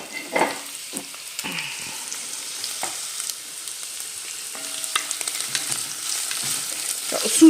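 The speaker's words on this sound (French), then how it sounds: "on va mettre les oignons et la viande à cuire parce que là, c'est bon. Ça grésille, l'huile est chaude." Onions and turkey frying in hot oil in a pan, a steady close sizzle broken by a few stirring scrapes and clatters, with no talk.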